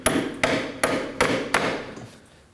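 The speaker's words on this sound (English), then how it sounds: "We're gonna hammer it just a little bit, so it's gonna help opening that knuckle." A hammer strikes a pry bar wedged into the steering knuckle of a 2011-2016 Kia Optima, five sharp metallic blows spaced evenly about every 0.4 seconds. Each blow rings briefly and the series is heard alone, close up.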